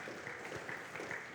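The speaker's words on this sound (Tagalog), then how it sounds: "Palakpakan natin ang ating Panginoon." A church congregation claps for the Lord during a sermon, a steady dense patter of many hands that fills the short moment with no voice over it.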